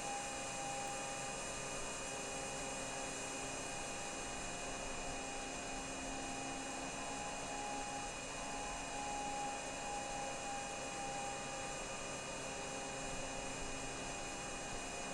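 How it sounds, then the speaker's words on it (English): MV-22 Osprey tiltrotor in Flight Simulator 2020, its rotors swinging back into position, heard as a steady, unbroken engine and rotor drone with a faint whine, even in level throughout. "now our rotors are going to rotate back into position"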